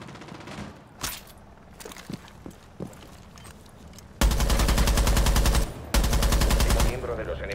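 Two long bursts of loud, rapid automatic gunfire in a ranked match of the Rainbow Six Siege video game, separated by a short pause and preceded by scattered quieter thuds and clicks.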